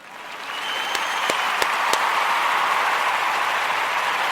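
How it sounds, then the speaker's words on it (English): A live audience breaks into applause, swelling quickly from a few sharp individual claps into sustained, even clapping from a crowd that holds steady to the end. "I want to give all of the Kujichagulia babies a round of applause."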